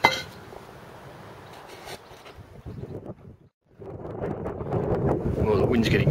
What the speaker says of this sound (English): the wind's getting stupid now, so I hope you can hear me